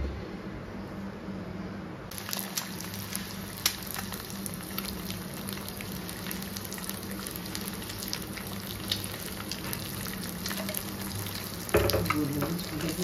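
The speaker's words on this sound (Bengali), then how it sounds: "একটু ডিম ভেজে দিচ্ছি" An egg fries in a pan at home, a soft sizzle that grows clearer after a couple of seconds, with small stirring clatters, water sounds and a brief louder burst near the end.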